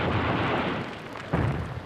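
Katyusha rocket artillery salvo rolling as a dense, continuous roar of overlapping explosions, loud and sustained, with a fresh surge of blasts partway through.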